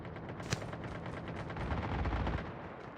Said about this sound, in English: Looks like there's some more gunfire.